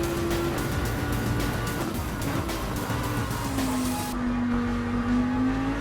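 Ferrari race car engine in Gran Turismo 7, a steady loud drone with shifting engine tones and a rising, sustained pitch near the end, continuous throughout with no talking.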